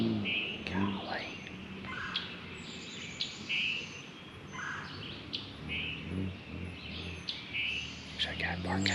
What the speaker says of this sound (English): birds going crazy